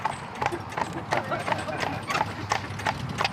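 Horse hooves clip-clop in a steady, even rhythm as the animal pulls a wagon along a car-free track in Ireland, with speech faintly audible over the hoofbeats.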